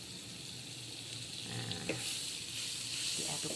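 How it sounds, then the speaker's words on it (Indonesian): Butter sizzling and frying in a heated wok for Sulawesi es pisang ijo, a steady broadband hiss with faint stirring scrapes, one brief spoken word near the start. "kemudian kita berikan mentega 1 sendok untuk wajannya biar tidak lengket."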